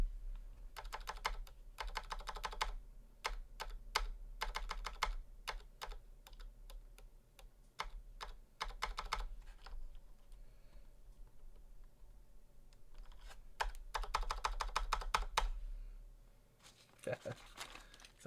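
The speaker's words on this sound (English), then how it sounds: "Sounds remarkably like an old school, old-fashioned keyboard." Typing on a Tex Shinobi mechanical keyboard comes in rapid bursts of crisp clicky keystrokes with short pauses between runs, close up and clear, without any talking.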